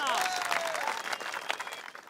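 An audience at a wrestling prize ceremony applauds Babban Lal with brief, fairly faint clapping, while a voice carries over the crowd.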